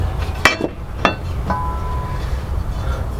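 A hammer strikes a metal bracket being bent for a Tesla-powered Vanagon conversion. Two sharp, ringing clanks come close together, then a third lighter tap that leaves a short metallic ring fading over a low background hum.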